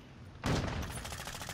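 A sudden burst of rapid gunfire in a Call of Duty match kicks in after a quieter moment, staying loud, close and repeating for the remainder.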